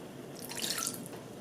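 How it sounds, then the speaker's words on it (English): Water is poured into a pot holding melted chocolate, oil and dark rum, giving a soft, brief splashing trickle that is faint and close. "And then we're actually also going to add in a 1/4 cup of water."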